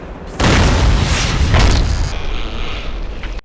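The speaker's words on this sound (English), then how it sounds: "every time I see the truck explosion scene where that one grunt gets flung 80 feet into the window" A truck blows up in The Darkness II video game: a sudden loud boom opens into a heavy rumbling roar that holds for a few seconds before tapering and cutting off.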